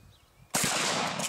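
A Mossberg 500 12-gauge pump shotgun fires a rifled slug outdoors from a dirt spot, one sudden loud blast cutting through quiet and ringing out in a long, sustained roar.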